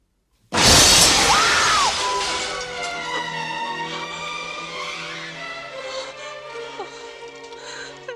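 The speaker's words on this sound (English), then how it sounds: "He ends up kidnapping her very dramatically by bursting through a glass brick wall" A glass brick wall bursts apart as someone smashes through it into a doctor's office in the 1986 film The Fly: a sudden loud shattering crash, then a long spray of tinkling, scattering debris.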